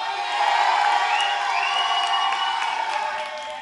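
A live gospel show crowd cheers and whoops steadily, a dense wash of voices with a few shrill whistles and shouts, loud and sustained before easing slightly at the end.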